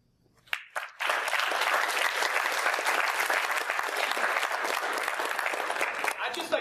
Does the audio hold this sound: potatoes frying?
no